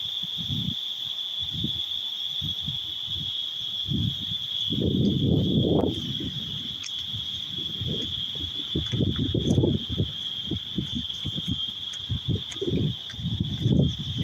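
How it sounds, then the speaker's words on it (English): A toad calls in a Jamaican forest on the walk from Cornwall Barracks to Rat Bat Cave, a steady, high, continuous trill running throughout beneath louder, close, low thumps and rustling. "hear the different animals here making noise. Sound like, what we call it again? That's a toad."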